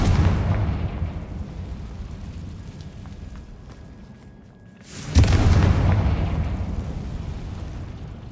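Confringo spell fired in Hogwarts Legacy, a fading rumble followed by a sudden loud blast that booms and slowly decays, close and heavy with no talk over it.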